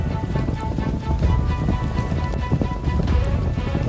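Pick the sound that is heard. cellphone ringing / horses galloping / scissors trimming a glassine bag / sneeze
horses galloping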